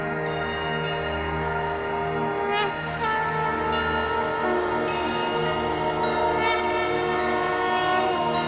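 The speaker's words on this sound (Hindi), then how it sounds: "ये शंख जैसी ध्वनि" A sustained conch shell blast with a strong, steady, horn-like tone holding for several seconds, loud and continuous with a few bright accents.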